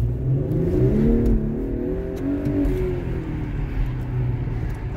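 An Audi SQ5 engine revs hard and climbs in pitch as it accelerates to 60, loud and close, with a steady roar underneath.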